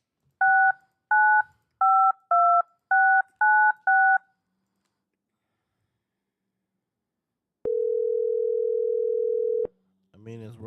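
Seven short two-tone telephone keypad dialing beeps in quick succession, then a steady dial-type tone lasting about two seconds, followed by a brief faint voice at the end.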